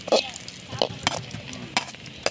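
Cashews and raisins crackle in hot ghee for Pongal cooking, with several short bursts of spattering and a spoon clinking against the pan, close and uneven.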